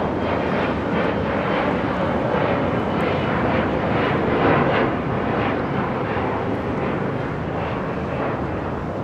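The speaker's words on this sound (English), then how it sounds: "the Emirates A380 Super heading into the gates on the southwest side" Steady, loud jet engine rumble of an Emirates Airbus A380 taxiing toward the gates at LAX, a continuous broadband roar with no talking.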